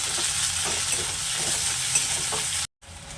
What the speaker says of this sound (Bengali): টমেটো দেওয়ার পর মশলাটা ভালোভাবে নেড়ে চেড়ে নেবে।